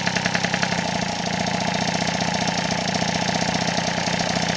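A rebuilt Volkswagen Transporter T3/T5 engine idles steadily while being run in, holding a loud, even, rapid mechanical chug close by with no pauses.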